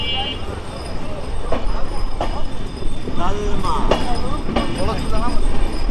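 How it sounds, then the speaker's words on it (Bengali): Onboard the Madhumati Express from Rajshahi to Dhaka as it passes Talma railway station, a loud steady rumble with rhythmic clickety-clack wheel beats and faint squeals, with a voice talking over it. "আমরা এখন তালমা রেলওয়ে স্টেশন পার হচ্ছি"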